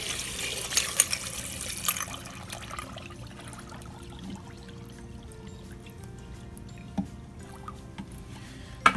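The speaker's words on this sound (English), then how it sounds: "We're going to dump some water to within about maybe a ½ inch of the top." Water pours into a stainless steel brass tumbler drum loaded with casings, a steady close splashing gush that fades into a quieter trickle with a few clunks.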